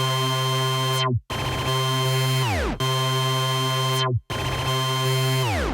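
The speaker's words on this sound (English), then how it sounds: "so I threw on a looperator preset and it sounds like this." A bright, buzzy synth lead in FL Studio processed with a Looperator effect preset, sustained loud chords repeating in a looped pattern, each section ending in a sharp downward pitch dive before restarting, with no voices.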